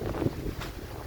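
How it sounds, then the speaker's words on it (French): Strong wind buffeting the microphone outdoors on a hiking trail, a short burst of low, rumbling gusts that swell and fade. "Il y a vraiment beaucoup de vent."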